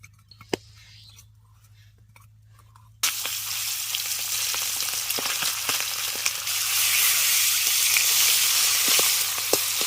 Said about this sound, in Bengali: মাছের মাথাটাকে ভালো করে ভেজে নেবেন